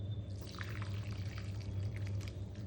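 Water from boiled drumsticks being poured through a strainer, a soft trickling pour with light splashes and drips over a low background hum, fairly quiet and continuous.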